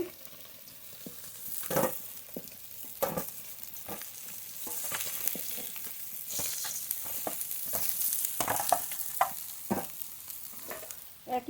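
Pieces of rohu fish frying in hot oil, a constant close sizzle punctuated by irregular clatters of a spatula turning and stirring in the pan.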